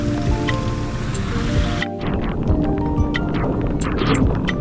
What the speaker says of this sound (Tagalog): Umuulan po ulit ng malakas.